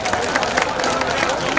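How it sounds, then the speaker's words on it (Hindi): A seated audience breaks into loud, sustained applause to welcome guests at a public ceremony, with dense overlapping claps and some crowd murmur running steadily through. "जोरदार ताली बजाकर स्वागत कर"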